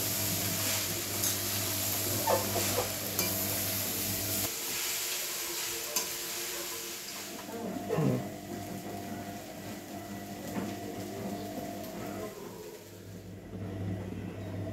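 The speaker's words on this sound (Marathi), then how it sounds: "परत एकदा पोहे हलवून घ्यायचे आहेत" Soaked poha with onion, salt and coriander is stirred in a pan, making scraping and clattering strokes over a steady low sizzle, with a continuous engine-like hum that stops partway through and then returns.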